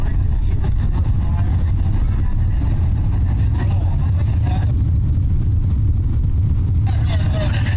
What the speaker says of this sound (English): Heat race number 2 making its way into the raceway next here.